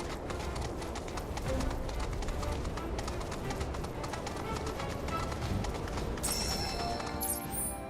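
Herd of chocobos running in Final Fantasy 7 Rebirth, a dense, rapid clatter of many hoofbeat-like footfalls like galloping horses, steady and close, with a bright chiming sound near the end.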